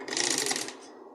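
A sewing machine stitches replacement upholstery on the side of an Audi A3 driver's seat in one short, close, whirring burst that fades at the end.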